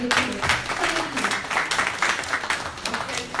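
An audience at a forum for African, Afro-Caribbean and Asian women in politics breaks into applause, a steady, fairly close patter of many hands clapping with a few voices mixed in.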